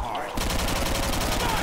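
Zombies-mode shooter gameplay with rapid, loud automatic gunfire starting abruptly after a brief moment and continuing as a steady machine-gun rattle to the end.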